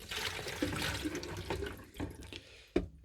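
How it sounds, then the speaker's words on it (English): Water drains from a caravan shower into a bowl placed underneath, an irregular splashing and gurgling trickle with several sharp splash bursts and a final clunk, close and fairly faint. "I've put a bigger bowl down there now to take all the water from the shower"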